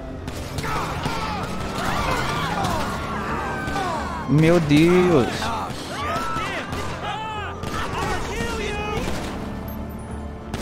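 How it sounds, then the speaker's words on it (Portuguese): Gunfire in the GTA V video game crackles in rapid bursts amid engine and crash noises, loud and dense throughout, while a man exclaims over the action. "O cara me acertou um tiro aqui, mano"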